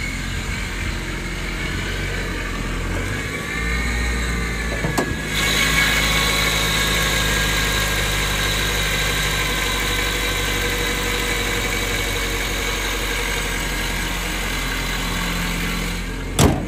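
A 2008 Honda Civic's 1.8 liter four-cylinder engine idles steadily under the hood, a close, even hum with a brief louder bump near the end.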